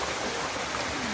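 Devil's Waterfall rushes in the background of a cool natural swimming spot, a loud, continuous broadband roar of falling water with no speech.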